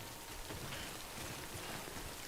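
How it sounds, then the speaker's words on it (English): Timefall rain in Death Stranding falls as a dense, even hiss of steady downpour on surfaces, continuous and fairly loud with no voices. "Don't stay out in the rain any longer than you have to."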